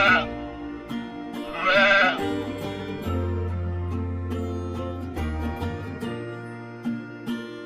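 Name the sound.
sheep bleating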